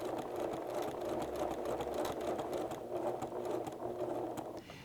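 A sewing machine runs a zigzag stitch over elastic shirring, a fast, even mechanical chatter heard up close that holds steady for several seconds before easing off, with no talking.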